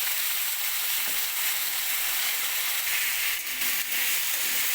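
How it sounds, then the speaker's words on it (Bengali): Small-cut potatoes fry in hot oil with panch phoron, giving a steady close sizzle and hiss, broken by a few brief scraping stirs. "আলুটাকে ভেজে নেব"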